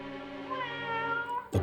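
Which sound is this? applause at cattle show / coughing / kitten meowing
kitten meowing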